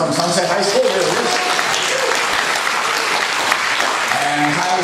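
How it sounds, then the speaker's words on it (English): A studio audience at a high school quiz game applauds a contestant with sustained, dense clapping that stays loud and steady throughout, with a voice faintly underneath. "So she's going to milk the applause."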